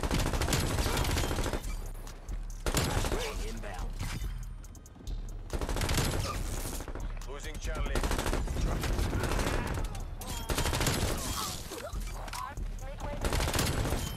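Rapid bursts of LC10 submachine gun fire in Call of Duty Cold War, loud and repeated in several volleys across the clip, mixed with game sounds and talk throughout.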